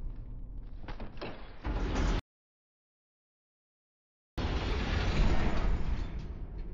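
A sliding door in a video game closes with a dense mechanical whoosh and rumble. The sound cuts to total silence for about two seconds, then resumes just as loud and steady.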